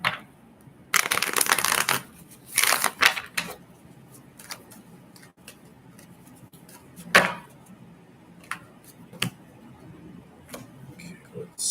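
Tarot cards are shuffled in two loud riffling bursts early on, then scattered softer snaps and taps of the deck follow, close up, with no talking.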